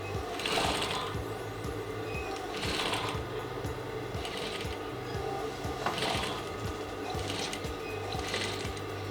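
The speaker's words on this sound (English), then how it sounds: "Now I will be going to my sewing machine to secure the pleat with stitch" A sewing machine stitching a pleat in white fabric runs in bursts of rapid mechanical stitching, pausing briefly between runs, with a steady motor hum underneath.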